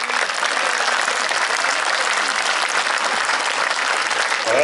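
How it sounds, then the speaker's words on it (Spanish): A crowd at a horse-racing championship meet gives young jockeys a loud, dense round of applause that stays full and even throughout. "Brindemos entonces a estos niños un fuerte aplauso."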